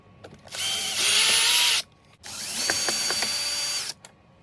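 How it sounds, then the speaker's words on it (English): A power drill whirs in two sustained bursts with a short pause between, its high motor whine mixed with ratcheting clicks as screws back out of a Bissell Powerforce vacuum cover. "I'm just going to use a power drill"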